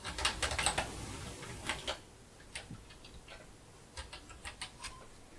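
Someone types a name on a computer keyboard: irregular bursts of light clicking keystrokes, some in quick runs and others spaced out, close and fairly quiet with no talking.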